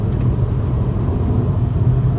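A Honda Civic with a CVT transmission drives along steadily, its engine and road noise forming a low continuous rumble from inside the vehicle, with no talking.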